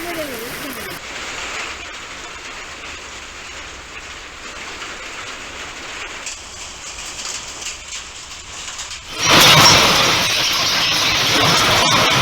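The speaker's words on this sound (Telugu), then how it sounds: "ఉరుములు మెరుపులతో కూడిన వడగళ్ల వాన కురిసింది" Heavy rain with hail and thunder pounding down in Bichkunda mandal, Kamareddy district, Telangana; a steady hiss of rain that swells abruptly into a much louder, denser downpour near the end.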